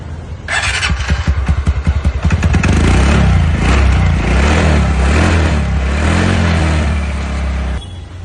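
A TVS Ntorq scooter engine cranks and catches, sputtering unevenly for a couple of seconds before settling into a steady, close idle hum that runs until it cuts off near the end.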